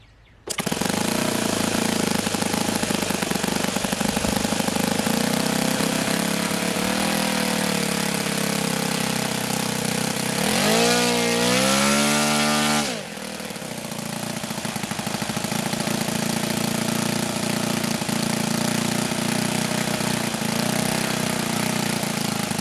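An OS FS-91 Surpass four-stroke model aircraft engine runs loud and close with a rough, popping, crackling note, its pitch swinging up and down briefly mid-run as the throttle is worked before settling back to a steady drone.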